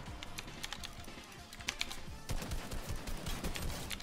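A typewriter is used in place of a computer keyboard, giving rapid, dense clacking keystrokes in irregular bursts that grow busier toward the end, close and fairly loud.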